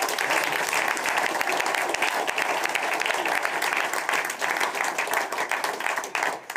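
An audience at a corporate dialogue event in Upper Austria gives sustained applause, a dense, even roar of many hands clapping that holds steady and thins slightly toward the end.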